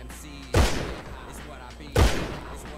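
Two sharp, loud Heavy Revolver Mk II gunshots in GTA 5, each a booming crack with a short decay, about one and a half seconds apart.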